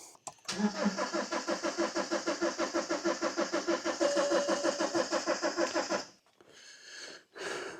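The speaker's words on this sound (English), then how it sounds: "Flick the ignition on and give it a crank." A BMW engine that won't start after its MOT cranks slowly with the ignition on, the starter chugging in a steady even rhythm for several seconds before stopping, then a brief second whir follows.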